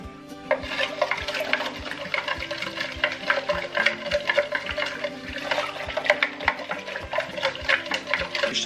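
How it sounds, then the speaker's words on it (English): Warm water poured over chopped vegetables in a bowl for homemade mustard pickle, a steady close splashing and trickling with irregular bursts and no talk. "I'll just pour some of that over the vegetables and then put some more warm water in it."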